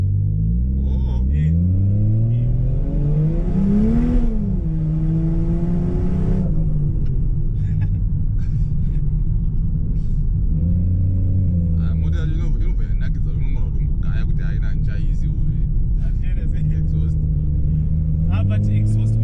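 A Toyota Supra with a 3S engine and aftermarket exhaust revs and accelerates nearby, its pitch rising and falling through several pulls while someone talks over the rumble.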